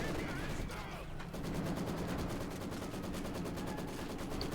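Rapid machine-gun bursts crackle in Company of Heroes 2 as units fire on a T-35 tank, a fast rhythmic stream of shots mixed with battle noise and heard under a commentator's voice.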